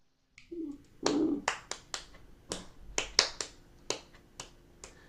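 Hands clap a repeating long-short-short rhythm, a dozen or so sharp, close claps spaced unevenly in the pattern, in a quiet room with no talking.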